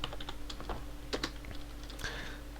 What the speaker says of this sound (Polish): wpisujemy sobie polecenie wystartowania naszej aplikacji